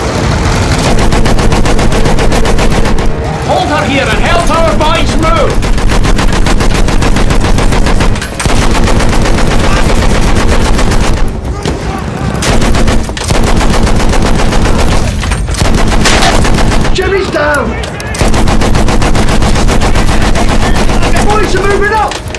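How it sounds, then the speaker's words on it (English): Machine gun suppressing fire in the Battlefield 1 video game campaign, a loud, relentless rattle of bursts with a few short pauses, while shouted voices call out orders over the gunfire. "Continue suppressing fire!"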